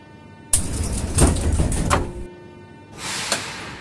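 Doors of an 81-717 metro train in a video game slide shut with a sharp thud and mechanical rumble, followed by a hiss and a softer closing sound.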